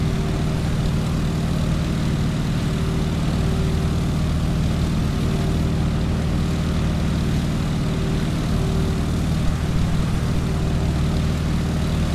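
Stearman biplane engine and propeller in Microsoft Flight, a loud, steady low droning hum with a constant tonal whine, continuous and unvarying throughout with no talk.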